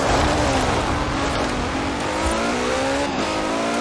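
A Ferrari 575M Maranello engine roars loudly in Forza Horizon 4, a steady high-rpm tone rising in pitch through the gears with a brief dip and recovery near the end.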